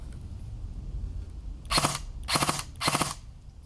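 A secondhand blowback airsoft replica fires three short full-auto bursts, each a rapid sharp rattle of clacking shots close up, separated by brief pauses over a quiet background.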